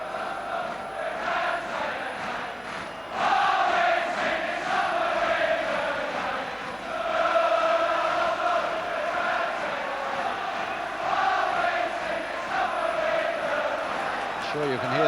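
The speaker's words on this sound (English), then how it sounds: "you can hear the Arsenal voices in the crowd at the moment" Arsenal supporters chanting in the stands during an FA Cup semi-final second replay against Liverpool, a steady wash of massed voices with rising swells, heard under continuous commentary.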